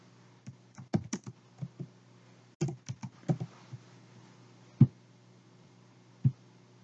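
Typing on a computer keyboard: close, scattered keystrokes in short uneven bursts, then a pause broken by two louder single key taps.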